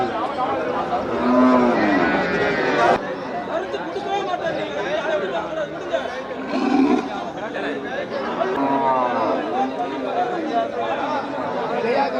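Cattle low repeatedly at a busy cattle market at Melapalayam, with their moos rising over constant crowd chatter and nearby talk for the whole stretch.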